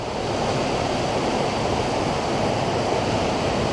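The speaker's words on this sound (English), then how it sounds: "So check out this waterfall. It is so steep." A steep waterfall on Mt. Whitney near Lone Pine Lake gives off a continuous, loud, broadband roar of fast-moving water. The sound stays steady and close throughout.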